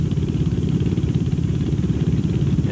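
Honda-built 5.5 horsepower utility engines, purpose-modified for go-kart racing, run at a racetrack, giving a steady, loud, continuous buzzing engine drone with no break throughout.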